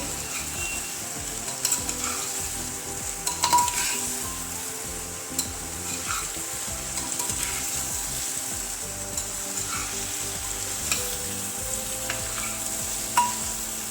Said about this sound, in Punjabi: ਗਾਜਰਾਂ ਨੂੰ ਆਪਾਂ 4-5 ਮਿੰਟ ਵਾਸਤੇ ਇਸ ਤਰ੍ਹਾਂ ਹੀ ਪਕਾਵਾਂਗੇ ਘਿਓ ਦੇ ਵਿੱਚ